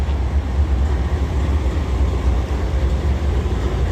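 A freight train of SCWX coal cars rolls past, a loud, steady low rumble with rhythmic wheel and car noise continuing throughout, no voices over it.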